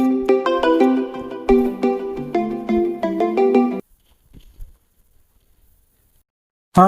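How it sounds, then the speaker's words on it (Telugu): A melodic electronic ringtone plays loudly for a few seconds, stops, then near-silence follows before the tune briefly starts again. "ఒక్క నిమిషం, ఫోన్ వస్తుంది."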